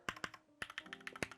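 Typing on a Marvo KG958W wireless mechanical keyboard, a quick uneven run of crisp clacky keystrokes, close and fairly quiet, with no talking.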